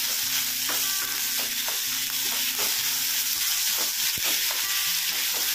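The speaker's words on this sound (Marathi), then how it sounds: "आता याच्यामध्ये बारीक चिरलेला कांदा व्यवस्थित आपल्याला परतवून घ्यायचा आहे" Finely chopped onion sautéing in a pan for a dry prawn chutney, a steady close sizzle with intermittent stirring scrapes and light clinks throughout.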